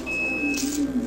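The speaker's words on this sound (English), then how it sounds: "That's a smoke detector." An indoor smoke detector beeps with a thin, steady high-pitched electronic tone that holds for about half a second, followed by faint hiss and background room noise.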